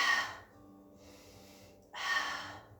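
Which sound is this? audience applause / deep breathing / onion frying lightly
deep breathing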